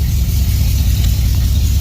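A truck engine idles steadily while it warms up toward operating temperature, after electric fans have been fitted, giving a close, continuous low rumble.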